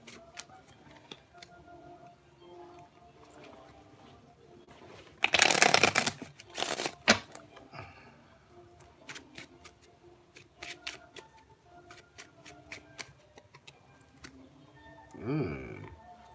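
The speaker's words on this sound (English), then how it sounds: "let me just go ahead and shuffle these" A deck of Bicycle Fire Elements playing cards is shuffled at close range. Soft handling rustles and taps give way to two sharp riffle bursts midway, then scattered clicks and a final short riffle near the end.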